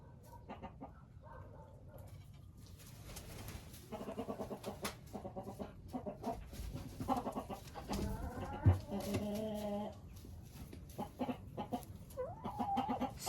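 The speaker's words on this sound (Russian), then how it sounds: "Что у нас нового у маранов и вот таких курочек?" Marans hens and other chickens cluck and murmur close by in a coop, with a steady rhythm of soft calls and occasional louder squawks and trills.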